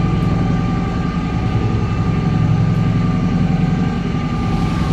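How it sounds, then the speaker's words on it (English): Aboard the Mighty Merloe racing trimaran, a boat engine runs in an unbroken, low, even drone that stays loud and close throughout with no talking. "So we fired up the engine."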